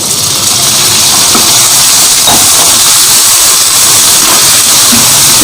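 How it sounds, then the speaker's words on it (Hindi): Goat liver pieces hitting a pan of fried onions for masala kaleji, giving a loud, steady, hissing sizzle that runs unbroken from start to finish, close up with no talking. "प्याज मेरा फ्राई हो गया। अब इसमें कलेजी डाल दूंगी।"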